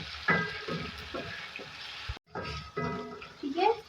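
Ginger garlic paste frying in a pan while making aloo baingan sabzi, with a bright sizzle and stirring scrapes that start and stop, close up, with a voice talking over parts of it.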